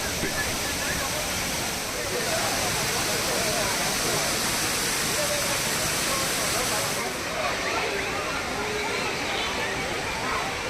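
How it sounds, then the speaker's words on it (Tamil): Hogenakkal waterfall with tourists bathing, a steady, loud rush of falling water that runs unbroken throughout with no clear voices. "அருவியில் குளியல் போட்டும் பரிசலில் பயணித்தும் உற்சாகம்."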